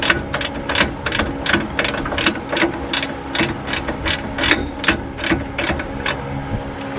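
A ratchet clicks in a steady, rapid run while tightening a bolt on the upper control arm of a 1997-2002 Ford F-150, loud and close with no talking.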